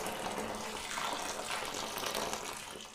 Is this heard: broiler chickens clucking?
no